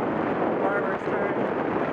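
Headwind buffets a microphone while someone rides a bicycle, a loud broadband rush of wind noise lasting two seconds.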